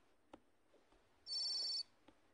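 A house telephone gives a short, bright electronic ring or tone lasting about half a second, faint and close, between a few soft knocks and handling noises in a quiet room.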